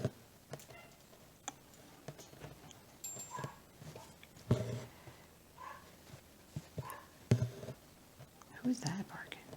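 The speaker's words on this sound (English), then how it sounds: "Who's that barking?" A dachshund gives a few sharp, scattered barks nearby, mixed with soft whispered talk and light clicking sounds in a quiet indoor room.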